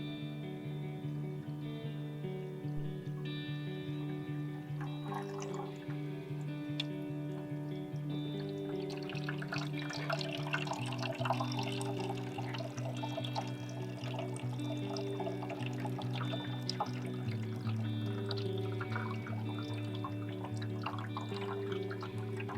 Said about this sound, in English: We're going to simulate rainfall now, the same amount of rain or water on each sample